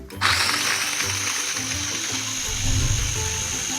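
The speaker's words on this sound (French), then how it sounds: "maintenant on va simplement mixer" A kitchen blender whirs loudly as it purees onion greens with pepper and salt, the motor kicking in abruptly and running steadily for a few seconds with shifting, churning tones.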